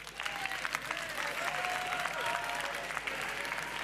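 Audience applause at a youth programme prize-giving during the ChangeNOW 2023 event, steady clapping held at a moderate level for about four seconds, with faint voices and a whistle-like tone threading through.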